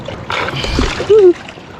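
Water splashes and sloshes up close in a pan while garnets are panned in a creek, a short burst of churning over running water with a brief tonal whistle near the end.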